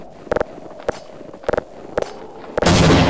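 Pistol shots from a Counter-Strike match: several sharp, close reports fired singly and in quick pairs over a low hum, ending in a sustained loud burst of noise.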